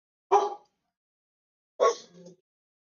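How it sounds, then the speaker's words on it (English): A pet dog gives two short, sharp barks about a second and a half apart, close and clear against a silent room. "My dog barking."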